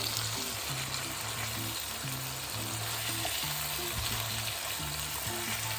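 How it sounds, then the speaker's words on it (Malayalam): Chicken pieces fry in hot oil in a pan with no vegetables, giving a steady, even sizzle that runs throughout, heard close and alone. "ഇത് ആ സൈഡ് നല്ലോണം വറുത്ത് പൊരിച്ച് വരട്ടെ."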